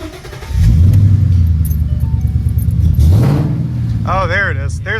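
Car engine fitted with a new BBK X-pipe exhaust revs loudly and close up, rising and falling twice over a steady rumble, while people talk over it.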